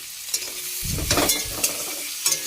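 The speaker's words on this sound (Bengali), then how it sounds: "এবার পেঁয়াজটা ভাজা হচ্ছে।" Onions frying in a wok sizzle loudly up close while a spatula stirs and scrapes through them in a few quick strokes, and nobody speaks.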